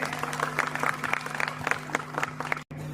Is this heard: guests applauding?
yes